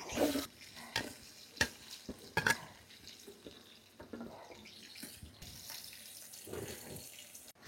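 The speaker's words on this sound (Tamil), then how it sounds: "இதில் வந்து நல்ல தண்ணி ஊற்றுறோம் அரிசியில்." Water is poured onto rice in a pot for trevally fish biryani, with intermittent splashing and sloshing bursts and light kitchen knocks, close and fairly quiet.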